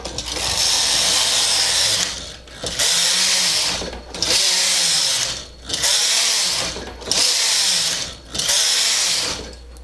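Knitting machine carriage sweeping back and forth to knit rows of waste yarn for a neck and sleeve border, loud rushing passes in a regular rhythm with brief pauses between rows.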